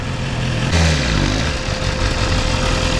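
A warmed-up motorcycle idles on a winter night before a ride, with a loud, steady engine drone heard close up and a slight shift in tone partway through.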